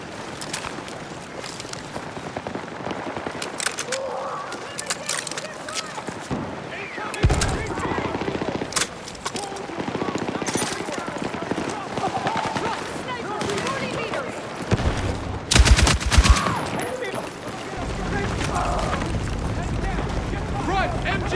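Bursts of machine gun fire crack out in the Battlefield 6 video game, mixed with other gunfire, explosions and a heavy din of battle.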